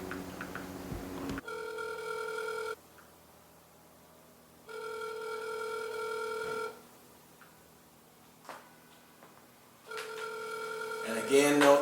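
A telephone rings in repeated long electronic trills, three bursts separated by pauses, heard on a speaker during a call attempt, with faint background noise between rings.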